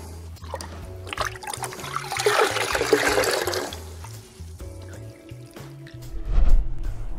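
Sponge dunked and sloshed in a bucket of Optimum No Rinse solution, with steady splashing and dripping water over a low background hum and a heavier slosh near the end.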